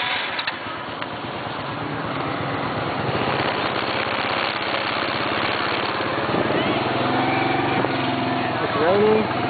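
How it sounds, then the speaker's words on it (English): Motorbike engine running steadily through a ride in Vietnam during Tet Trung Thu, a rough continuous drone with street traffic around it and people talking throughout. "We're going to go for a motorcycle ride"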